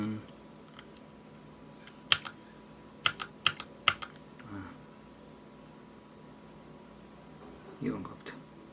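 Keystrokes on a Keychron K6 Bluetooth mechanical keyboard with red switches: a few sparse, sharp clicks in small bursts over a quiet background, close and moderately loud, with a faint soft rustle near the end.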